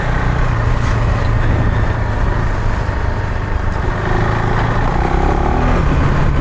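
A KTM 390 Adventure R motorcycle spinning its rear wheel in a muddy downhill lane with the engine roaring loud and continuous, close up and mixed with rushing noise.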